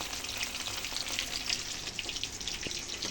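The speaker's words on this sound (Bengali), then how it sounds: "কাতলা মাছ নুন হলুদ মাখিয়ে রেখেছিলাম এখন ভেজে নিচ্ছি" Salt-and-turmeric-rubbed katla fish pieces frying in hot oil, a steady dense sizzle with crackling pops running throughout, close and continuous with no talking.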